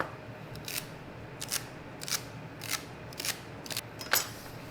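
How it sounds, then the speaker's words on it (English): A knife dicing carrots and other vegetables into large pieces for braise aromatics, heard as a steady series of sharp, quiet chops spaced about half a second apart over a low background hum, with no voices. "Just a nice large dice on everything."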